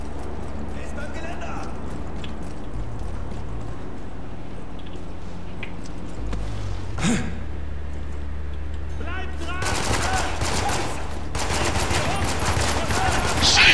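Gunfire in Spec Ops: The Line cracks out in a few sharp shots, then a denser burst of rapid firing, with game sounds rumbling throughout.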